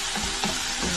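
Spicy chili garlic okra stirred in a hot frying pan, steady loud sizzling with soft spatula scrapes, close and continuous with no talk.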